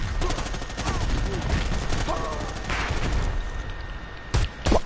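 Minigun bursts in the video game Predator: Hunting Grounds, a dense, loud stream of rapid gunfire running almost continuously, ending with a couple of heavier blasts, with a voice speaking over it.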